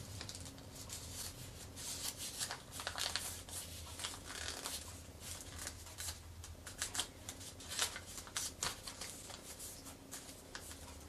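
Origami paper being folded into a flapping crane, heard as close, quiet crinkling, rubbing and sharp creasing rustles that come in irregular bursts across the whole stretch, with no talking.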